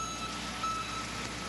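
A municipal recycling truck in Halton, 1994, sounds intermittent high reversing beeps over a steady low engine rumble at moderate distance, with no talk.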